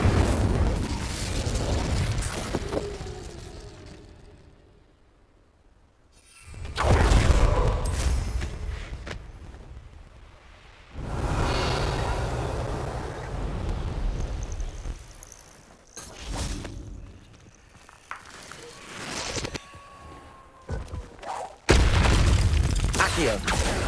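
Spell effects from Hogwarts Legacy, including the Incendio fire spell, come as repeated whooshing bursts and booms separated by quiet gaps, with brief voice spells spoken between them.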